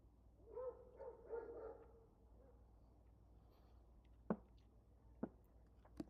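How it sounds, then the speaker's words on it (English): Dogs barking out in a city street beside a cemetery in Chicago: a few distant barks early, then sharper isolated yelps near the end, faint over low background hum. "In the street the dogs are barking."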